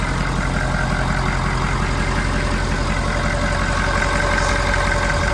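A Ford F550 cab-and-chassis truck with a 6.7 Powerstroke diesel idles just after starting, with the radiator caps left off. The engine gives a loud, steady, close rumble with a fine even clatter and holds constant for the whole stretch.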